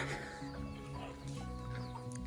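Chickens and roosters cluck steadily alongside a village school in a Konkan village, a close, continuous stream of fowl calls over a low ambient background with no talking.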